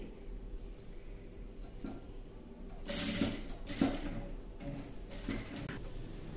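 A sewing machine stitches a simple neckline design on a women's dress, running in short bursts of rapid stitching over a steady low background hum, close and moderately loud.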